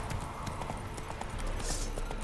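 A horse's hooves clip-clop in a quick, regular rhythm in The Witcher 3, loud and close with constant ambient noise behind.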